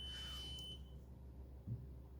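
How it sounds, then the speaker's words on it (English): A home dishwasher gives off a high electronic beeping, a thin tone at the very start that quickly fades, quiet and indoors against a low steady hum. "That is my dishwasher."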